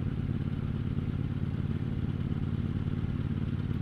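A 2018 KTM Duke 790 motorcycle cruising in fifth gear at about 30 mph on the road, a steady low engine drone with wind rumble and light mechanical clatter, no talking.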